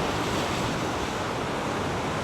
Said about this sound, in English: This is the sea at Boscastle.